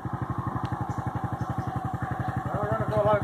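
A motorcycle crosses a bridge through flooded virgin forest, its engine close by, chugging in a fast, even pulse that grows slightly louder near the end, while people talk over it.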